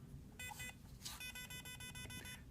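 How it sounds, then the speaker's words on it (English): A SecuRam ProLogic keypad safe lock with a dead battery sounds a warning of electronic beeps. Two short chirps come first, then a rapid run of pulsed beeps follows. The beeps are close but fairly quiet over a low background hum. "And those long beeps, I have a dead battery in here."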